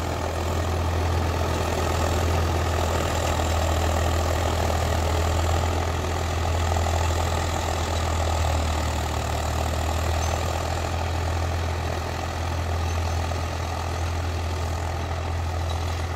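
A Swaraj 744 XT tractor engine runs steadily while pulling a rotavator, a loud, even low drone with a constant hum and no voices, close and unbroken throughout.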